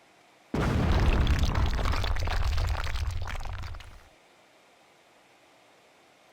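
A loud blast tearing through rock in Yakuza 4 erupts suddenly, then a dense roaring rumble of crumbling debris sustains for about three and a half seconds before cutting off to near silence.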